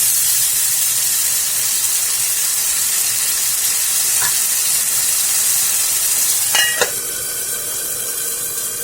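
Ground spices with cumin powder fry in a hot pan with a steady, close sizzle, and a couple of brief stirring scrapes come through near the end.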